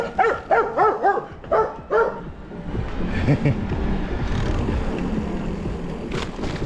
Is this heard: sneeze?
no